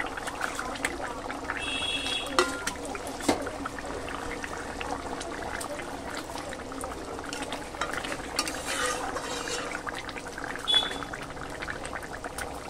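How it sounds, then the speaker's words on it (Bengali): Boal fish curry with capsicum and potatoes simmering in a pot, a steady soft bubbling and sloshing with occasional faint clinks, heard close and alone. "এবার কিন্তু আমার ঝোলটা ফুটে গেছে।"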